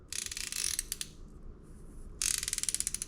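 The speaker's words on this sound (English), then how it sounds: "ratcheting wrenches are kind of notorious for not like lasting that long" A Matco ratcheting wrench clicks in rapid, evenly spaced ratchet strokes, close and crisp, in two bursts separated by a quieter pause with a brief softer mechanical whir.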